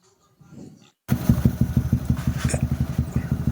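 A Yamaha NMAX with a 232cc engine build, revived after flood damage, fires up after a brief quiet crank and settles into a loud, close, steady putter of rapid regular exhaust pulses.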